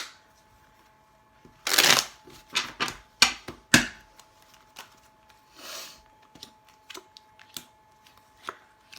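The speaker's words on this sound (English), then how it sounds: "we're just going to shuffle real quick" Tarot cards are shuffled in several quick riffling bursts, crisp and close, followed by softer scattered taps and flicks.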